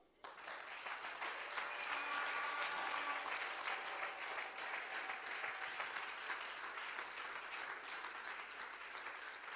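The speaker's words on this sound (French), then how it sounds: "J'aimerais qu'on l'acclame." A church congregation applauds in a steady, dense wash of many hands clapping, sustained throughout and heard from a moderate distance.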